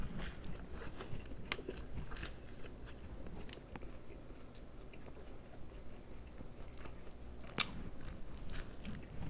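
A Subway sandwich is chewed close to the mic, with soft repeated bites and crunchy mastication at a quiet, irregular rhythm and no talking.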